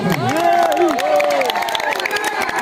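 A live audience at an Odia comedy stage show cheers and claps, crowd noise and scattered applause running loud and continuous beneath an amplified voice speaking over the top.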